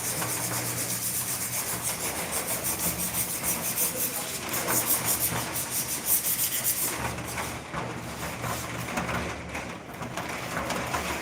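Emery sheet sanding a painted surface, a continuous close, rasping rub with a steady back-and-forth texture throughout.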